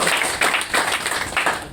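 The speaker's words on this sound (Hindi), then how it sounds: "जोर से ताली बजाओ" Loud clapping from an audience at a networking meeting, a close, dense burst of hands with a few stronger pulses rising and falling, no voices on top.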